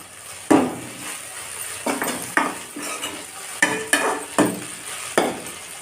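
Okra stir-fry with grated coconut being stirred in a pan, a spoon scraping and clinking in about seven distinct strokes over a soft background sizzle.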